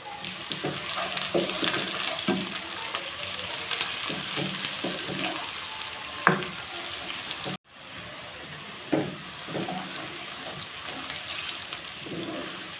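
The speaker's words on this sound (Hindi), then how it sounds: "अभी हमें सिर्फ ज़ीरा, प्याज, लहसुन और हरी मिर्चों को फ्राई करना है" Cumin, onion, garlic and green chillies fry in a pan with a steady, moderately loud sizzle and crackle that carries on throughout, broken by a few sharper pops and one brief dropout partway through.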